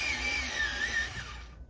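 A high, whirring motorized buzz from an electric pencil sharpener runs for over a second, wavering slightly in pitch, then cuts off abruptly.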